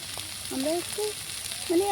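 Spice masala for Bengali potol (pointed gourd) curry fries in a pan with a continuous bright sizzle, while a voice speaks briefly over it.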